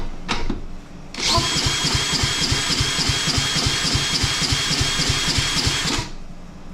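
A Curb lawnmower's small engine is pulled over and catches, running at a fast, steady chugging beat for several seconds, close and loud, then cuts off abruptly.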